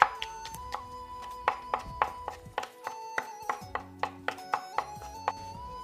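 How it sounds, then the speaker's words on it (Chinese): A knife thuds on a chopping board in a quick, regular rhythm, cutting chicken leg meat and green pepper into small pieces, with soft music playing underneath. "喜欢吃辣的可以加一些青椒进去， 再次剁碎。"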